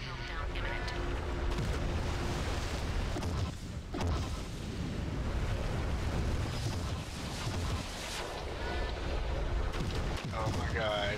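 Mech missile fire and blasts in MechWarrior 3: a dense, continuous barrage of booming launches and explosions, loud and close, with excited voices talking over it.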